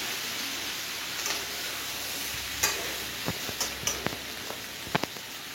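Vegetables and softened tomatoes stirred in a cooking pan, a steady close sizzle of frying with scattered scraping and tapping of the spoon against the pan, no talking.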